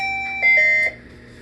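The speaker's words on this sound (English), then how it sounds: "the soft alarm comes on for a second just to say, okay, choice is locked in" A model train controller gives a soft, steady electronic alarm tone for about half a second to confirm a track selection, clean and close with no talking.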